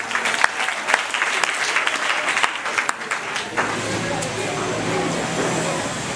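A church congregation claps together in praise during a Sunday worship service, dense rhythmic applause at close range that swells and then thins into a steady crowd murmur and scattered claps.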